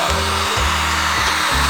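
A heat gun blows a steady, loud rush of hot air close by while warming vinyl wrap on a car to smooth out wrinkles, with a low pulsing hum underneath throughout.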